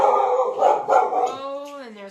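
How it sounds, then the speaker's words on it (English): Household dogs bark and howl indoors in a drawn-out, wavering yowl close by, with a person talking briefly over the start. "So yeah, you can hear the barking."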